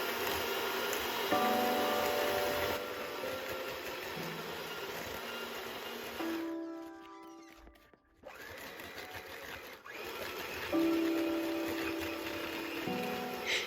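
An electric mixer creams butter with two kinds of sugar for brown butter chocolate chip cookie dough, a steady close whirring drone that drops out briefly partway through and then resumes.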